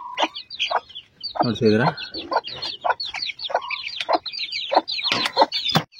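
Native hens and their chicks clucking and peeping close by, brisk short calls and chirps scattered throughout while someone talks over them.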